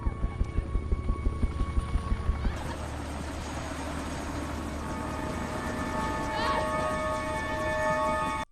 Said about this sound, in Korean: 저 멀리 구조 헬기가 이들을 발견하고 다가오고 있었습니다